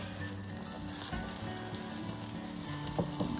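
Parmesan mushroom omelette frying in a pan, a soft steady sizzle close by with faint clinks near the end, no talking.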